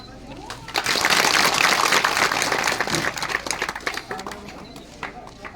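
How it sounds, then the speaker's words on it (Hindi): A village crowd welcomes a guest with loud, dense clapping that swells quickly, holds for a couple of seconds, then thins into scattered claps, with some voices in the background. "आप जो है तालियों"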